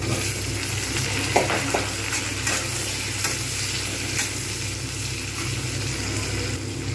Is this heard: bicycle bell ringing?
no